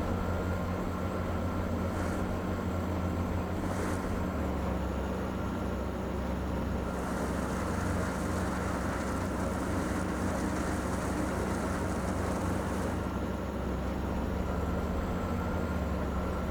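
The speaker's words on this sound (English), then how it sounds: "But I love this grinder. It does such a good job." A stump grinder machine in Farming Simulator 2015 drones on in a steady, loud mechanical hum for a long stretch, with a few brief surges in the grinding noise.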